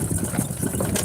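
A golf cart's engine runs with a steady low rumble throughout the brief moment, close by and unbroken.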